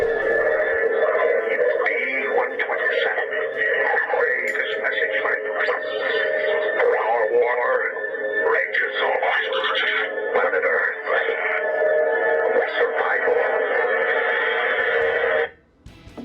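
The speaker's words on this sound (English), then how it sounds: "When you press B, you will trigger the sound effect." Sound effect played from a Bumblebee-movie-themed toy figure, a ToyWorld TW-F09 Freedom Leader, a tinny, radio-like burst of garbled voice and noise lasting several seconds from a small speaker, then cutting off abruptly.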